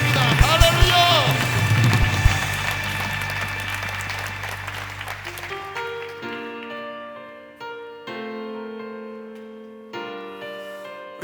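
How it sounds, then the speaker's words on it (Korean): Congregation applause at a Korean church prayer meeting, a dense wash of clapping in the first half that fades as sustained organ or keyboard chords carry on alone. "우리 가운데 함께 하시는 그 주님께 우리 귀한 박수 한번 올려드리겠습니다."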